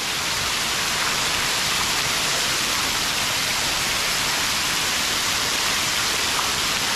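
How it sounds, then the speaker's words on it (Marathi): Heavy monsoon rain pours down outside in a village near Mahad, Raigad, a dense, steady hiss of falling water that stays loud and even throughout with no voices. "खूप जोरात पाऊस पडतोय."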